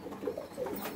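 Pigeons coo inside a pigeon loft, a couple of soft, low, rounded calls close by and alone, with no talking.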